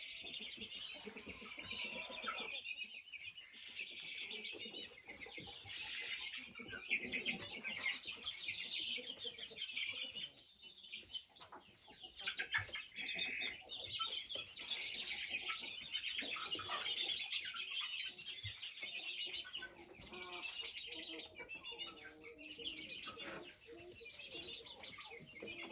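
Chickens in a freshly cleaned coop cluck and murmur continuously, several birds overlapping in soft, busy chatter with occasional louder calls and brief wing rustles, no one speaking.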